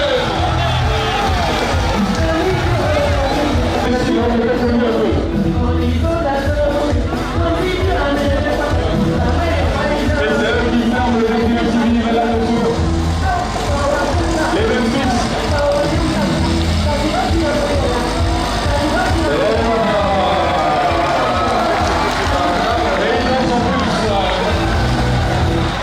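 Loud, dense crowd noise at an outdoor civic show in a city square, sustained cheering and clapping with many voices throughout, no single voice standing out.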